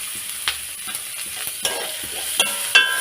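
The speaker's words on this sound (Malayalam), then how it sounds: "സവാള ഒന്ന് വഴറ്റണം." Onions sautéed in a pan for a Kerala drumstick thoran, with a soft continuous sizzle broken by a few sharp scrapes and stirs of the spoon, close and clear with no talk.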